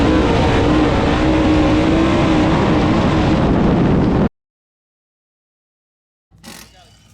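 Loud, close roar of dirt race cars running a heat in the Lucas Oil dirt series, a dense engine drone that cuts off abruptly, followed by silence and then a brief rustling burst.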